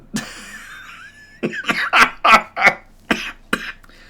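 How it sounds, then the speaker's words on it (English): A short whistling tone, then a run of six or seven harsh coughs in quick succession, close and loud, with no speech. "I can't laugh or I start coughing"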